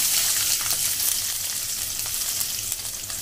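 Ginger, garlic and small shallots frying in hot oil for donne biryani, giving a loud, dense, continuous sizzle with faint stirring underneath, close and steady throughout.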